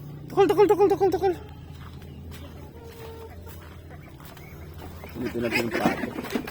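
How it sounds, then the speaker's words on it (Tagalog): Ducks in their pen give a loud burst of rapid quacking near the start and a rougher cluster of calls near the end, with quieter rustling and shuffling in between. "Dito natin yung pato."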